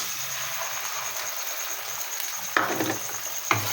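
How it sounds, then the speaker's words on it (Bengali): Two eggs frying in a pan with onions and turmeric, a soft steady sizzle that breaks into two loud scraping stirs near the end. "ডিম দিয়ে ভালোভাবে মেরে চেড়ে ভেজে নেব"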